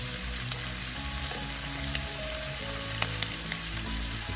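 Pork sautéing over high heat in a pan for pork binagoongan, a steady loud sizzle with a few faint clinks of a utensil stirring, no voices.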